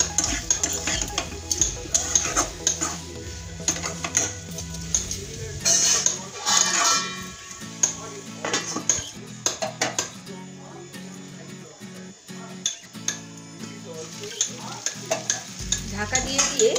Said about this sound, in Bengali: ঢাকা দিয়ে দিয়ে আমি কিছুক্ষণ এই মশলাটার সাথে কুমড়োটা কষিয়ে নিয়েছি